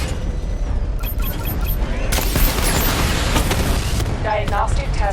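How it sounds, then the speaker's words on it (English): A tank launching a missile barrage in Batman: Arkham Knight, a dense rumbling roar of launches and explosions building midway, with a synthetic voice speaking over the loud din. "Missile barrage level 2 ready"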